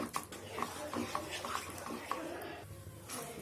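Egg bhurji masala is stirred in a pan, with a spatula scraping and tapping in a quick irregular rhythm over a soft sizzle, close and moderately loud, and no talk.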